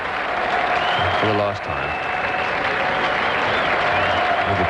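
A crowd at the 1983-84 McDonalds Cup Final cricket match at Adelaide Oval, South Australia versus Western Australia, applauds steadily and fairly loudly throughout while a commentator talks over it.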